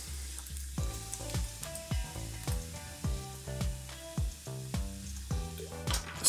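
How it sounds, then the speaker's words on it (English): A glass of sloe gin and tonic with lime juice and ice being stirred, giving a steady run of bright, ringing clinks roughly every half second as the ice knocks against the glass. The sound is close and clear, with no talking. "Ice. Stir a little."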